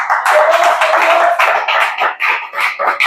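Church congregation clapping in rhythmic bursts during a lively service, dense and close with no talk over it.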